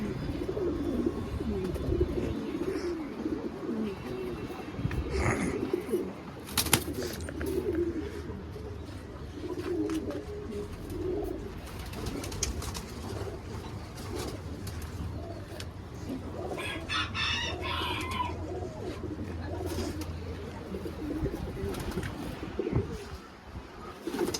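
Black pigeons at a home loft coo in low repeated calls through a steady noisy room background, with occasional flutters and clatter nearby.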